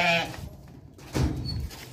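A fat, heavy sheep among livestock gives one short, close bleat at the start, followed by quieter background shuffling.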